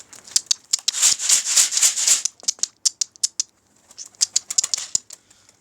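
Pet birds fly about indoors, their wings flapping in quick fluttering bursts, one dense stretch early on and then scattered short flutters, close and fairly loud with no talk.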